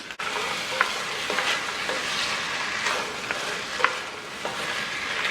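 Romano beans dropped into a hot pot with browned stewed chicken pieces, giving a steady close sizzle and frying hiss with a few light stirring clicks, no voices.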